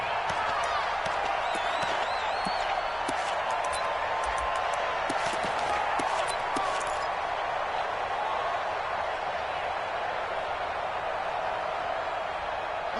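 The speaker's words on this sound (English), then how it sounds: "The crowd here in the Dome making things difficult." A loud, steady roar from a football stadium crowd in the Dome, a dense wash of cheering and noise that holds throughout, with a few claps and thuds early on.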